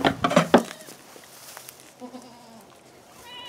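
Young goat kids about three weeks old bleat in a quick burst of overlapping cries at the start, followed by fainter, thinner bleats later on, close by in a quiet barn setting.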